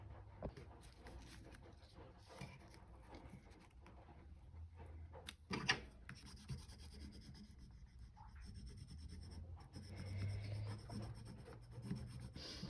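Soft, close scratchy rubbing on a paper cutout already glued into a junk journal, continuing in quiet strokes with a few brief louder scrapes partway through.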